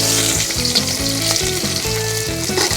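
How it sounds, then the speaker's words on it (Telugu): Sliced onions (red onions) hit hot oil and fry with a loud, steady sizzle and crackle, for an Andhra-style green chilli chicken, with no voices. "ఇంకా కట్ చేసినట్టు ఎర్రగడ్డలు వేసుకుందాం."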